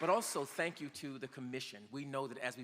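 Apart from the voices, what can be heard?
No everyday noise stands out behind the speech.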